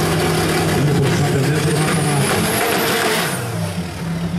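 Race car at full throttle during a timed qualifying session on a Copa Serra circuit, the engine roaring loud and close with a steady high revving note that eases slightly near the end.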